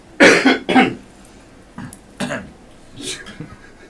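A person coughs several times in quick bursts, close to the mic, with a couple of softer coughs and throat clearing following.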